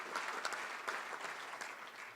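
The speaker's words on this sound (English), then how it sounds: "let's give them a round of applause, please, to Lunsford Metropolitan Bank and all of our sponsors" Audience applause for the sponsors at a Little Rock Touchdown Club luncheon at the Embassy Suites, a steady, dense patter of many hands clapping throughout, fairly close and even in level.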